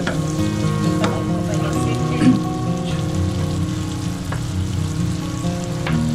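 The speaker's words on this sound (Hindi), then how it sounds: "अच्छा जी पनीर डालते हैं" Paneer cubes sizzle and fry steadily in a hot pan for paneer chilli at an Indian halal food truck in Houston, Texas, a dense, continuous crackle with small pops and no voices.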